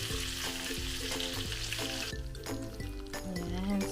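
Chicken thigh pieces sizzle steadily in a Salad Master skillet while being turned over, a dense close-up frying hiss with scraping stir sounds and brief clunks of the pieces being flipped.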